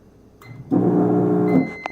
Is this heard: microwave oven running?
yes